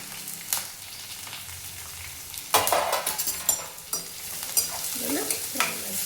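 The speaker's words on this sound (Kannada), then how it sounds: "ಇದನ್ನು ಫ್ರೈ ಮಾಡ್ಕೋಬೇಕು, ನೀಟಾಗಿ ಮಿಕ್ಸ್ ಮಾಡ್ಕೋಬೇಕು." Onion, curry leaves and green chillies fry in hot oil, a steady sizzle broken by several scraping stirs of a spoon in the pan, close and fairly loud.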